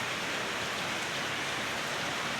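Rain falls steadily over rice fields, a dense, even hiss of drops that stays constant and fairly close, with no voices.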